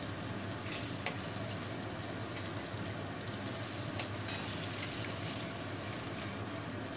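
Darkened oil left over from frying fish sizzles softly in a pan as fish curry starts cooking, a faint, steady crackle with occasional brighter pops.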